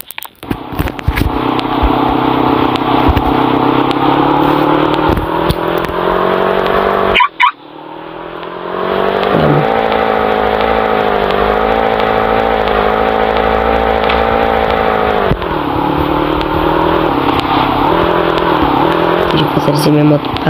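A motorcycle engine in Roblox Brookhaven drones steadily for about twenty seconds, with a brief cutout and restart midway and small pitch shifts, while a voice talks over it.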